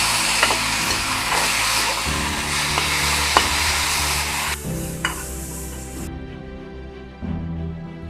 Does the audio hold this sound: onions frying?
yes